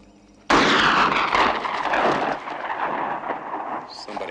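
A single loud rifle shot fired at a buck in a 1971 western TV series cracks close after a quiet moment, then booms and rolls away in a long decaying echo.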